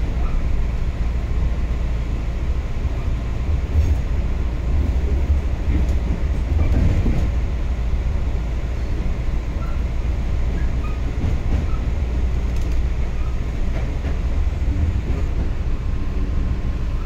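A 3000 Class railcar pulls into Gawler station with a continuous low rumble and rolling clatter, steady and fairly loud, with a few brief rattles and bumps along the way.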